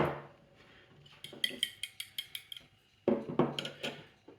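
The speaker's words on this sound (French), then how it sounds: "Je vais mettre mes pâtes dans mon saladier." Cooked pasta is spooned into a salad bowl, with a quick run of bright clinks and taps of a utensil against the bowl in two close bursts.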